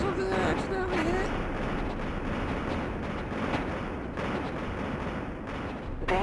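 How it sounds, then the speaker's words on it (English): Heavy artillery fire in the mech combat game Mech Engineer rumbles as a dense, continuous roar of low booms and blasts, loud and sustained throughout, with a brief synthetic alert tone near the start. "Danger. Artillery fire."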